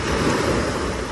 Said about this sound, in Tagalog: Ay ang alon.